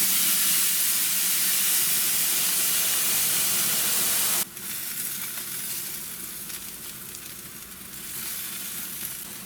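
Carne asada meat sizzling on a hot grill, a loud steady hiss that drops suddenly partway through and then carries on as a softer, crackling fry.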